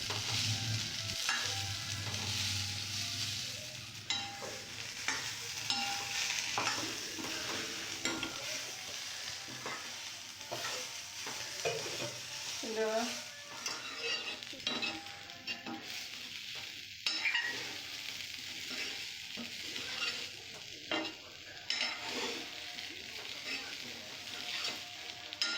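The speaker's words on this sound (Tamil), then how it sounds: "நல்லா கலந்து விட்டுடலாம்" A spoon stirs plantain poriyal in a pan over a soft, continuous frying sizzle, scraping and knocking against the metal again and again, close by and fairly quiet, with no talk.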